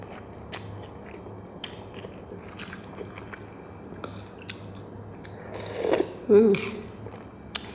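Crispy pork rinds eaten with a bowl of stewed pork noodle soup topped with fried garlic and basil, giving faint close-up bites and chewing scattered throughout, with a louder crunchy burst near the end.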